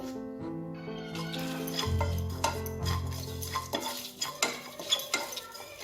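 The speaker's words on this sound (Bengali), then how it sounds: "একটা গোটা শুকনো লঙ্কা, 1 টুকরো দারচিনি আর 3টে এলাচ, এটাকে আমি খুব ভালো করে ড্রাই রোস্ট করে নেব" Whole dried chilli, a piece of cinnamon and cardamom pods dry-roast in a pan, a utensil scraping and clattering in quick irregular strokes against the metal, with a brief tonal hum at the start.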